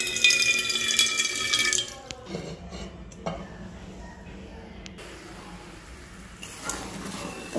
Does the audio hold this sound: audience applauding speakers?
no